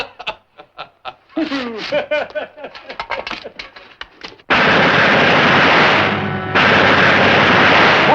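Gunfire in a 1952 war film after a shouted order to fire: scattered sharp shots and a voice at first, then a loud, sustained burst of heavy firing that keeps roaring close up, with a short dip in the middle.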